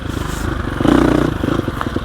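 A 2021 Gasgas EX 350F dirt bike engine held in third gear, a close, loud, throbbing drone that swells briefly with the throttle, then settles into a pulsing, slightly rattly run.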